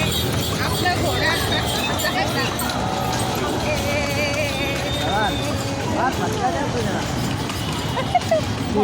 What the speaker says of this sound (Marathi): आपला घोडा पुढे जात आहे आपला घोडा